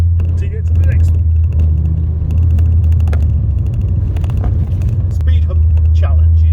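A modified VW Beetle drives along with a steady, loud low engine rumble and road noise, passing over a speed hump. Someone speaks over the engine throughout.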